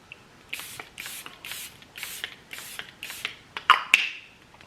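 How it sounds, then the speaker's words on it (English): Charlotte Tilbury setting spray misted onto a face in several quick hissing pumps, about six short bursts spaced evenly and close up, followed by a couple of sharper clicks at the end. "I'm gonna set my face with the Charlotte Tilbury setting spray"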